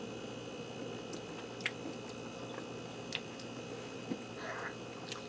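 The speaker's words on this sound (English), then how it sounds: "I'm going to start with a piece of shrimp first." Someone chewing a bite of salsa verde shrimp, soft wet mastication close to the ear with a few faint clicks, quiet and unaccompanied by talk.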